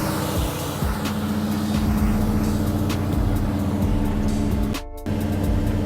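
A vehicle engine idles steadily and loudly up close just after being started with a reconnected battery and tightened bolts, with a brief dip in the drone near the end.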